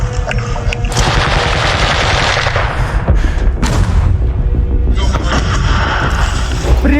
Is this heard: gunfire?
yes